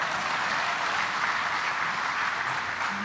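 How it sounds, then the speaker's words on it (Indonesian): A crowd at a cadre gathering in Indonesia applauds, a broad, even wash of clapping heard from some distance, sustained and fairly quiet with no voices on top. "Mana tepuk tangannya?"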